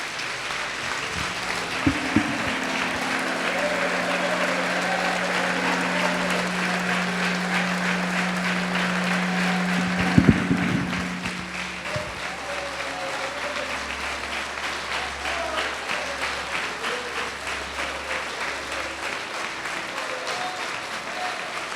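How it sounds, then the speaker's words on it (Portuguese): An evangelical congregation at a 2024 gathering applauds the Lord, a long sustained roar of many hands clapping that fills the hall, with a low organ-like tone held underneath and a brief loud burst midway. "Aplauda ao Senhor."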